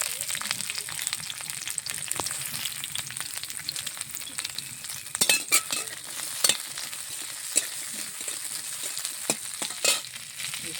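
Chopped onion, raw garlic and green chilies fry in a little oil, giving a continuous hissing sizzle with scattered scrapes and clatters of stirring that grow busier toward the end; no voices.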